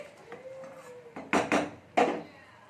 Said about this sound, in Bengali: জলটা দিয়ে এবার আমি ঢাকা দিয়ে দিচ্ছি